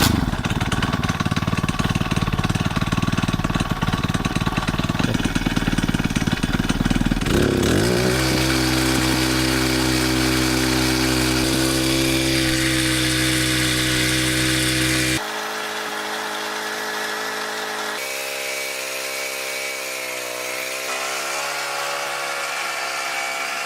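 Engine of a Portable Winch PCW 5000 forestry capstan winch running steadily and loud throughout, its pitch and load shifting as rope is pulled, with the tone changing and dropping slightly in level partway through.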